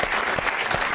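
Game show studio audience applauding steadily throughout, a dense wash of clapping at moderate level with no talk over it.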